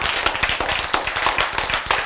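Close, brisk clapping from a lecture audience, a rapid run of sharp hand claps over two seconds, fairly loud with no talk over it.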